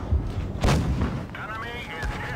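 A tank cannon shot in the mobile tank battle game World of Tanks Blitz, one heavy booming blast with a rumbling tail and a metallic ringing afterward, loud and up close, with a commentator talking over it.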